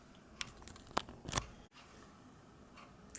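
Scissors snip through quilt border fabric in a few quick, close cuts, with brief rustling of the cloth in a quiet room.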